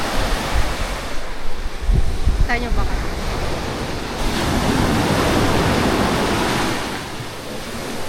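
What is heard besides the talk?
strong ocean waves on a Boracay beach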